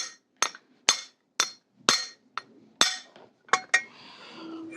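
Hammer blows strike a crown race onto a bicycle fork on a 1992 Mt Shasta Arrowhead bike, about eight sharp metallic taps spaced irregularly, close and ringing, followed by a faint scraping hum.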